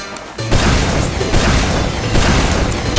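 In Team Fortress 2, a sudden loud crack-boom from a sniper rifle shot is followed by dense, rumbling game noise that carries on for a few seconds.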